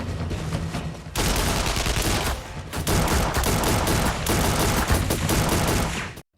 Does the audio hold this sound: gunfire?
yes